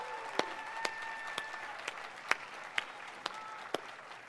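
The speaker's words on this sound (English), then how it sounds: "let's just give an applause for them" A small crowd claps in scattered applause at a law school hooding ceremony, sharp irregular hand claps rising over a quiet room hum.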